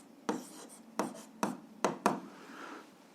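A pen writes in a notebook during a 7th-grade algebra exercise, five short scratchy strokes in an irregular rhythm, close and quiet, with no talking.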